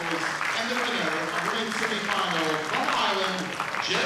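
Spectators at a lawn bowls world cup singles semi-final applaud steadily, a continuous loud wash of clapping mixed with crowd murmur and voices.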